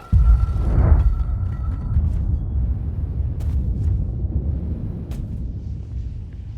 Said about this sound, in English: I think I hear it exploding right now